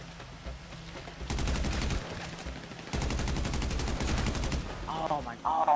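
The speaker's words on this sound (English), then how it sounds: "That's why I used the SMG" SMG gunfire in GTA V, two sustained rapid-fire automatic bursts of roughly a second and a half each, close and loud, with quieter game sounds in between and after.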